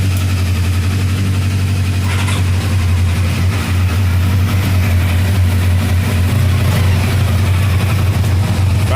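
A 1980s motorcycle, either a 1985 Kawasaki Ninja 900 or a 1986 Honda VF1000R, idles through its factory exhaust with a steady, loud, close low drone throughout.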